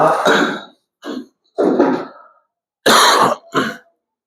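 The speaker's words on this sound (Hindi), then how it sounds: "खांसी नहीं सही हो रही" A series of harsh coughs and throat clearing, five bursts close to the mic with short silent pauses between them.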